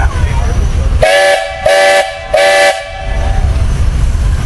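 A steam traction engine whistle at a threshing show parade sounds three loud, long blasts in a row signalling that the grain wagon is late, separated by short gaps over outdoor rumble.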